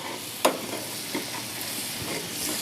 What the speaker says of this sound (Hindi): अब मैं इसको बघार लगाने लगी हूँ।